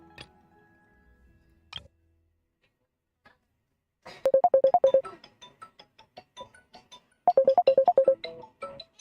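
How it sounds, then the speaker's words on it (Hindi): A phone ringtone for an incoming call plays in two bursts of quick, bright repeated beeps in a chirping pattern, clear and close, after a few quiet seconds with scattered soft clicks. "एक मिनट भाई लोग फोन आ रहा है."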